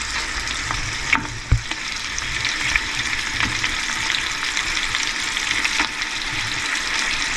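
Sausages browning over raised heat in a frying pan for Irish coddle, a loud, continuous close sizzle with a few sharp pops and utensil knocks near the start.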